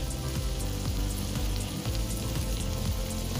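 Goat meat kadingga frying in a little oil, a steady dense sizzle with crackling pops that stays close and constant throughout, with no voices over it.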